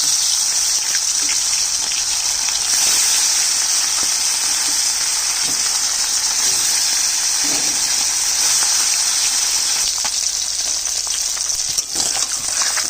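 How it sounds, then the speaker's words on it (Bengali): Fish pieces slid one at a time into hot oil in a heated wok fry with a loud, steady sizzle that runs unbroken throughout, with faint scattered clicks and no talking. "একটা একটা করে মাছ ছেড়ে দিচ্ছি।"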